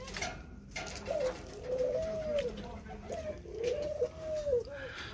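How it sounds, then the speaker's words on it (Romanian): Wild pigeons cooing at a bird-keeping site, a series of soft, low, rolling coos repeating in bursts over steady faint background noise. "Niște porumbei sălbatici."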